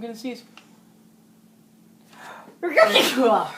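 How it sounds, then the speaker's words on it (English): A short voiced intake, a long quiet pause with a faint hum, then one loud, explosive sneeze close to the microphone. "oh, I'm going to sneeze."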